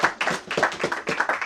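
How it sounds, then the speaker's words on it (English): Audience clapping at a Rotary Club installation ceremony, a light, rhythmic patter of separate handclaps from a small group, fairly close and evenly paced. "please do clap for me"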